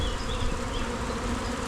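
Honey bees buzz steadily during a beehive inspection of a colony with a supersedure queen. The hum is a close, continuous drone with no talking.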